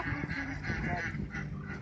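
Ducks in the Alleppey backwaters, Kerala, quack and honk in a noisy cluster close by, calls overlapping in a busy, continuous chatter.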